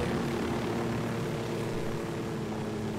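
A helicopter flying in Tom Clancy's Ghost Recon Wildlands video game, a steady loud rotor and engine drone that stays constant throughout, with no talk over it.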